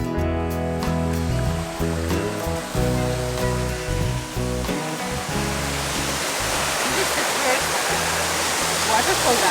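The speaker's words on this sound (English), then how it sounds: "Waterfall, guys." Waterfall in a cloud forest roaring as a steady broadband rush, with other tones mixed in at first and the water noise dominating as it continues.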